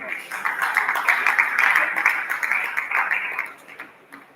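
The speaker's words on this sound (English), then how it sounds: "Please, a round of applause for him as he comes." An audience at a business and leadership summit and awards event claps and applauds as a speaker comes on stage, a dense burst of clapping that swells and then tapers off over a few seconds.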